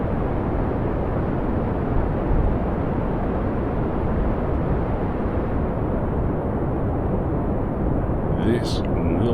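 Rocket engines launching a craft in Kerbal Space Program roar as a steady, dense, loud rumble that holds without a break, like a continuous broadband blast close at hand.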